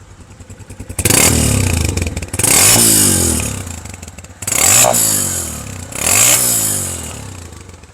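A Honda CG150 motorcycle engine idles, then is revved hard in four loud, close bursts, each rising and falling back toward idle between throttle blips, with no talk.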